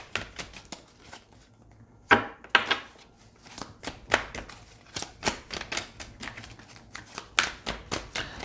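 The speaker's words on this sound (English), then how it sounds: "They're just going to take their time shuffling today, huh?" Tarot cards are shuffled by hand close up, a run of quick papery riffles and taps in an irregular rhythm, some louder slaps among softer flicks.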